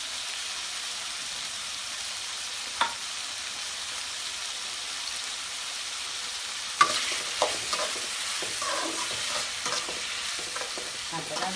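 Tomatoes sautéing in a pan for a dry fish gravy, a soft low sizzle with sparse clicks at first, then busier scraping and tapping of stirring for the last few seconds.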